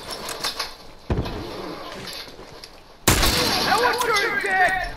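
Turret gunfire in The Last of Us during an online match, two sharp bursts of shots, the second louder and followed by ringing echoes, with faint game ambience between.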